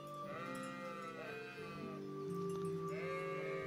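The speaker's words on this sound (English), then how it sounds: "Look at the sheep." Sheep in the medieval role-playing game Kingdom Come: Deliverance bleat in long, wavering calls that overlap one another, loud and close over a steady background of in-game ambience.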